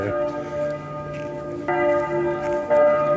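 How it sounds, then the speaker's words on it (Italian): Church bell at Marienplatz in Munich ringing outdoors, several resonant strikes with long sustained tones, each new stroke louder than the last, over faint city ambience. "Abbiamo pizzicato pure il gong dalla campana,"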